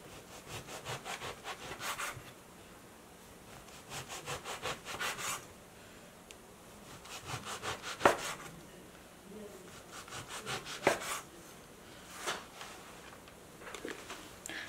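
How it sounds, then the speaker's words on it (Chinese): A knife saws repeatedly through slices of steamed buns (mantou) on a wooden board, close and fairly soft, with rhythmic bursts of back-and-forth strokes separated by short pauses and occasional louder knocks on the board. "我们将馒头切片"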